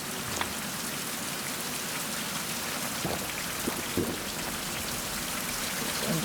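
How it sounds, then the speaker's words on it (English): Steady rain pours in the video game Survival: Fountain of Youth, a dense continuous hiss with a few soft taps and knocks, and no voices. "Good, I'm going to get some rain."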